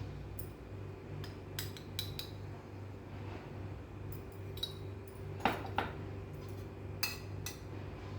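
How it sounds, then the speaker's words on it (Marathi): A spoon drops jaljira powder into a glass of water, giving a few light metallic clinks and taps, sharpest around the middle of the stretch, over a quiet room hum. "आणि एका ग्लासाला एक चमचा जलजिरा पावडर टाकूया"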